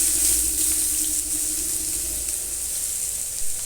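Sliced onion, a sprig of curry leaves and four round-cut green chillies sizzle steadily in a pan for a mushroom roast, a soft continuous hiss with no voices.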